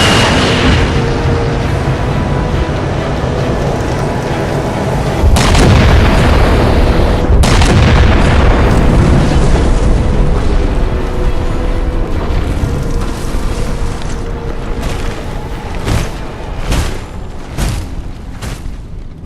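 Heavy artillery fire and explosions in the video game Halo 4, a sequence of loud booming blasts and sharp impacts over a constant rumbling background.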